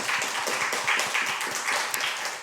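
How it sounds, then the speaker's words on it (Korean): Congregation clapping in church right after a baptism, a dense, steady patter of many hands filling the room evenly at moderate loudness with no voices over it. "박수 다시 한번 해주시기"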